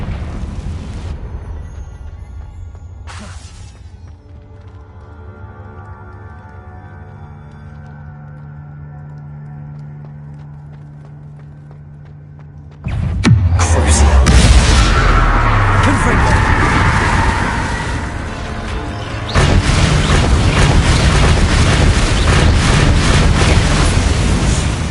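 A Confringo blasting curse in Hogwarts Legacy, set in a cave, erupts as a sudden loud blast that gives way to a sustained roaring, crackling burst after a quieter stretch of ambient tones and rumble.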